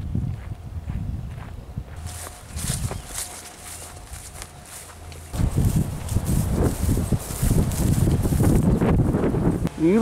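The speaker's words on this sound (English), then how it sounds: "Hey, horsey. Oh, there's two of you." Two horses on a hiking trail in the Laurel Highlands give faint hoof thuds and shuffling near the microphone, mixed with footsteps and buffeting wind that grows louder midway.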